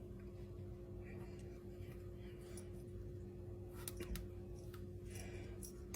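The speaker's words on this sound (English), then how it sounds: "I'm going to cut the yellow acorn" A knife cuts into a yellow acorn squash with a few faint crunching snaps near the four-second mark, over a steady low kitchen hum.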